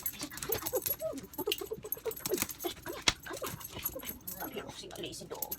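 A dog whimpers and pants indoors in soft, irregular whines and breaths while a person talks to it nearby.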